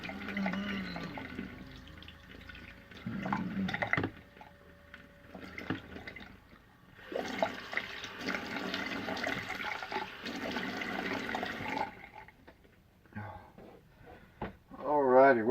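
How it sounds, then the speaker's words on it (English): Water drains out of a sink after a shave, gurgling and rushing in uneven bursts with quieter gaps between them, ending in a short swirling gulp. "let the water out"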